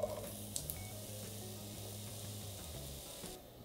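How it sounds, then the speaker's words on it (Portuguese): Chopped onion sizzling as it is sautéed in a pan with a drizzle of olive oil, a soft, steady hiss under low hum and faint kitchen clatter, with no talking. "começou a chiar"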